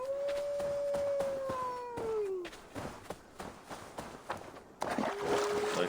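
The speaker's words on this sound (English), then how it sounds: "why are the wolves not stopping to howl?" Wolves howl in the Assassin's Creed Valhalla game world, with a long falling howl up front, a second overlapping howl, then a later shorter howl, set against footsteps and ambient game noise.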